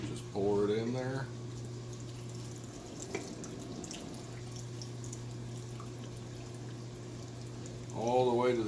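Pickling liquid poured into a jar packed with cucumbers, a steady watery splash running under a constant low kitchen hum, with a person speaking briefly at the start and again at the end.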